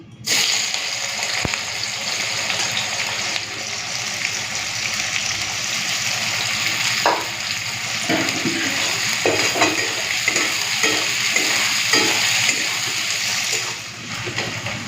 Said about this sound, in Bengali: পেঁয়াজটা লাল করে ভেজে নিয়েছি